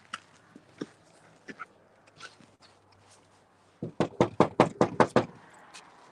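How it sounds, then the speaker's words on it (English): Someone knocks on a house's front door: a few scattered light taps first, then a loud run of about eight firm, evenly spaced knocks close by. "So I'm about to knock on the door."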